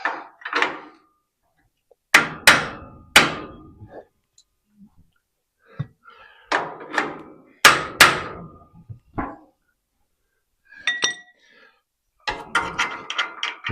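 A hammer taps a suspension control arm mount on a project car into place, with clusters of sharp metallic knocks in short bursts separated by quiet gaps, plus a few faint clicks.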